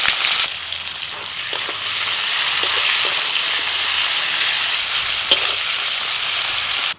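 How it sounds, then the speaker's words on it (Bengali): Chopped onions go into hot oil already tempered with dried red chillies, bay leaves, cardamom, cinnamon and cloves. A loud, steady sizzle follows, with faint stirring scrapes, close up and with no talking. "ফোড়নটা একটু হতেই দিয়ে দিচ্ছি পেঁয়াজ কুচি।"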